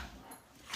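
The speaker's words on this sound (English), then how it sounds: "sorry, that's my dog." A dog whimpers briefly indoors, a short faint whine rising at the end, heard on its own without talk.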